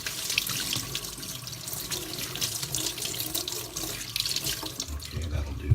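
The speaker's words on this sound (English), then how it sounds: "let's give these a quick rinse before we cut them up so they're nice and clean" Tap water running steadily into a kitchen sink while broad beans are rinsed, a close, continuous splashing hiss with no talk.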